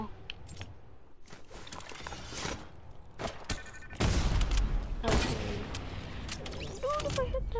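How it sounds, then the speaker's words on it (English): Gunfire in the Fortnite video game, scattered bursts and single shots with clattering in-game effects, louder in the second half, with occasional talk in between. "I keep jumping over bullets and I keep getting hit by them"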